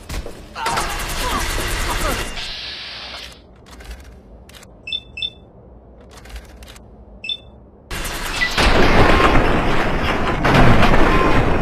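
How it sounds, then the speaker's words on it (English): Explosion in Fallout 3 from a thrown grenade: a loud, dense roar of blast noise swells for a few seconds, drops to quiet with sharp clicks and beeps, then a second heavy, sustained burst of crashing noise follows. "Grenade! Get down!"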